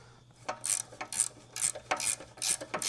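A wrench lightly tightening a bolt on a car's suspension wishbone gives a regular series of sharp metallic clicks and scrapes, about two per second, close and moderately loud, with a low steady hum underneath.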